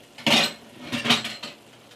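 A metal lid set down onto a cooking pot of fish stew, a sharp clattering clink followed by two softer metallic taps as it settles, close and alone.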